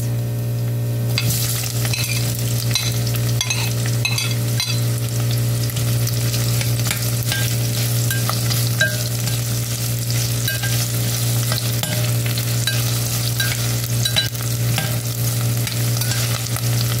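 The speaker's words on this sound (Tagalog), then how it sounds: "At ilagay na natin yung sibuyas." Onions sauté steadily in a hot pan with a continuous sizzle, occasional stirring scrapes, and a constant low hum underneath, all at close range and without speech.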